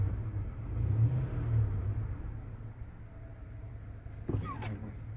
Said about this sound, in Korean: 스포츠카 소리 같기도 하고